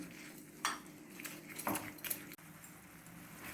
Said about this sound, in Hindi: इसको भी इसी तरह से थोड़ी देर चलाएंगे।